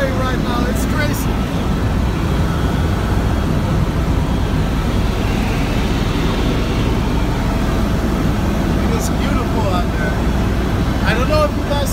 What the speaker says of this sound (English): We're back on the chopper.